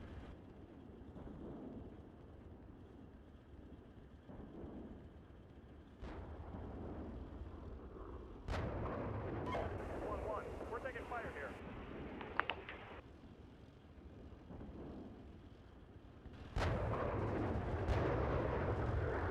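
Artillery fire mission in Steel Beasts Pro, several sharp booms and distant rumbling impacts scattered over a battlefield ambience, interspersed with radio chatter and voices talking.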